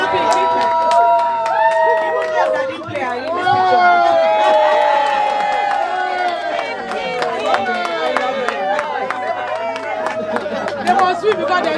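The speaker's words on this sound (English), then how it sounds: "Come on, people, keep clapping!" Crowd at a family fun day in Watford claps steadily, mixed with cheering, whoops and lively chatter, while voices call out over the noise throughout.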